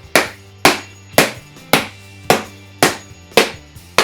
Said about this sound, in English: It cracked right in half just by hammering it with the hammer.